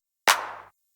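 A single sharp hardstyle clap sample with a boosted resonant frequency, hit with a bright, processed attack and a short ringing tail that fades within half a second.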